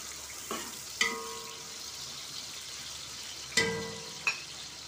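Onions brown in ghee and oil for haleem, with a soft continuous sizzle and a few sharp clinks of a spoon stirring against the pan.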